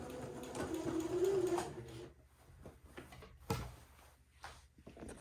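A sewing machine stitches a quarter-inch seam on lining fabric, running in a short close burst with a quick back-and-forth start, then stopping, leaving only light handling clicks and faint knocks.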